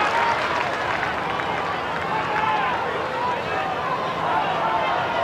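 A big crowd of over 30,000 at an Australian football game between St Kilda and North Melbourne in 1997 keeps up a continuous, loud cheering roar, with a commentator talking over it.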